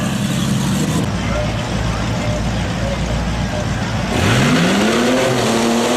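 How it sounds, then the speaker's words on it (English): A modified Wilson Ranger truck at a Tuscarawas County rough truck event revs loudly, its engine pitch climbing steeply near the end, while a commentator talks over a crowd's background noise. "This here is the Wilson Ranger truck"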